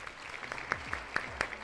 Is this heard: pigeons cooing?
no